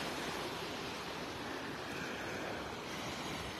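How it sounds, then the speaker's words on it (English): Soft waves break over sandbars and wash continuously in the distance on calm water at Vanderbilt Beach, a steady hushing surf with light wind and no voices. "Just the waves breaking over the sandbars"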